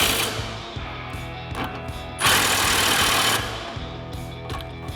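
A ratchet with an 18mm socket tightens the sway bar end link nut on the front suspension of a 2005-2009 Mustang GT, giving steady bursts of close, rapid metallic clicking with brief pauses and no talking.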